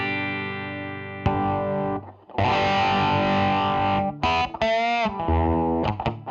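Electric guitar played through a DIY treble booster on the middle pickup, palm resting near the bridge: a loud, distorted, bright series of picked notes and chords with sustained ringing, brief gaps and a vowel-like, nasal quality.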